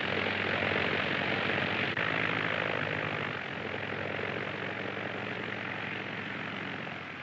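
Loud, steady roar of a propeller airplane engine, a dense throbbing drone that holds close and fades only slightly over several seconds.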